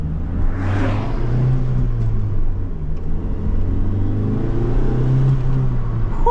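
A 1989 Ford Probe Turbo GT engine hums and rises in pitch as it accelerates, steady and close, heard from inside the car with no talking.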